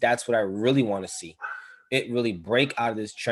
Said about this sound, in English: sorry if you hear the dog barking in the background